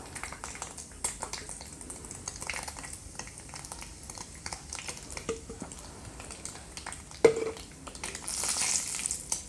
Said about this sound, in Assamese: এই একেখিনি তেলতে এতিয়া দি লৈছোঁ এটা শুকান জলকীয়া, তাৰপিছত দি ল'ম কাশ্মীৰী ৰেড চিলি পাউডাৰ